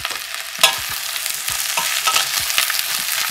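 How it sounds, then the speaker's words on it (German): Soup ingredients fry in olive oil in a pot, a close, dense sizzle with crackles and the scrape of stirring, steady throughout with no voices. "Und wir lassen das richtig schön anbraten."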